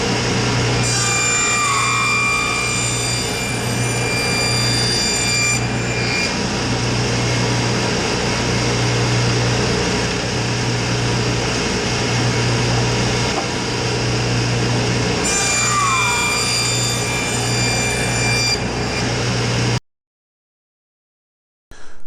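Thin 1/8 inch wood pieces are sawn into 3/4 inch wide strips for a Layens beehive frame, with a power saw humming steadily and loud for about twenty seconds before it stops and falls silent.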